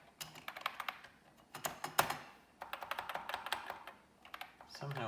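Clattery keystrokes on a Commodore 64 keyboard come in quick irregular bursts with short pauses, close and fairly loud, with no talking.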